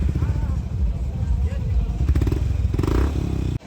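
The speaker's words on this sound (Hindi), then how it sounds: "हिमालयन 452 में रेड रूस्टर एग्जॉस्ट ऐसा है।" A Royal Enfield Himalayan 452 motorcycle fitted with a Red Rooster aftermarket exhaust rumbles steadily up close with a throbbing beat, and a brief louder rev near the end before cutting off abruptly.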